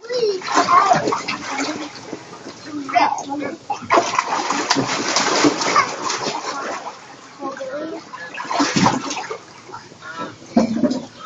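Children splash water in a swimming pool, with repeated sloshes and spatters close by while adults and kids talk and call out throughout.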